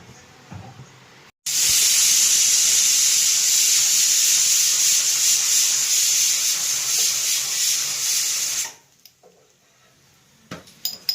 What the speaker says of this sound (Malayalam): ഒരു 3 വിസിലടിക്കുമ്പോൾ ഓഫാക്കാം. 3 വിസിലടിക്കാം.